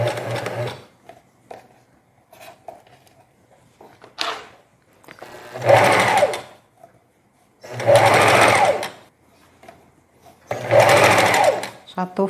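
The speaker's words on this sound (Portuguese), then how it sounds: "vou trazer aqui para a máquina para costurar com o mesmo ponto de zigue-zague" A domestic knitting machine sews a knit sleeve with a zigzag stitch, running in three loud steady bursts of a few seconds each, separated by quieter pauses with a person speaking.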